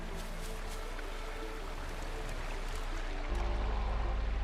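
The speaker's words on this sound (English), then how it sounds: "They have the water sound effect still going." Ambient water from the video game Wuthering Waves, a soft, steady trickling stream that runs quietly and continuously, with a low hum joining near the end.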